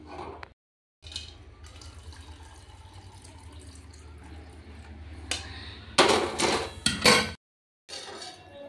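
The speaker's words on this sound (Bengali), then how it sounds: "ডালটা আরও 2-3 বার ধোবো, ধুয়ে ফেলে দেবো জলটা" Urad dal lentils being rinsed in a pot of water in a home kitchen, with steady sloshing and swishing, light clinks of the vessel, and a louder burst of splashing near the end as the water is poured off.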